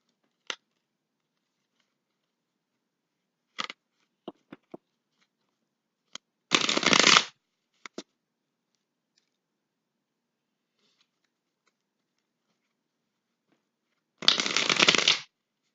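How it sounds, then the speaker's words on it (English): Tarot cards riffled in two dense bursts, each under a second, with scattered light taps and card flicks between them; no talking. "So let's start shuffling here."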